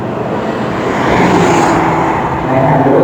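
A loud, steady engine roar from a racing car on the track at Chang International Circuit, sustained and close, with a slight swell in intensity partway through.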